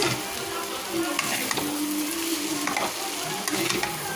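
Hakka chow mein noodles stir-fried in a hot pan give a steady, close sizzle, broken by repeated scraping and tossing strokes throughout.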